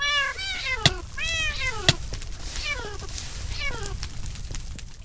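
Several cats meow in a video game while they burn, a run of rising and falling cries in quick clusters with a couple of sharp clicks, faint background noise beneath.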